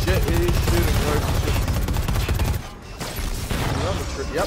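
Enemy gunfire in a shooter video game, dense bursts of automatic fire rattling continuously at close range, briefly dipping then resuming, with game music and players talking underneath.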